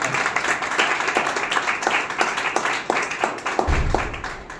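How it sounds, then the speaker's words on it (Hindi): An audience at a plastic awareness program gives a sustained round of clapping for a guest, Nitin, with a rhythmic, fairly loud patter holding steady for several seconds. "एक बार जोरदार तालियां नितिन सर।"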